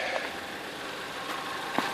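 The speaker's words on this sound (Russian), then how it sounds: "вот двигатель работает как часики" A 2011 Nissan Almera Classic engine idles steadily on its own, a faint, even mechanical hum running throughout with one brief soft knock near the end.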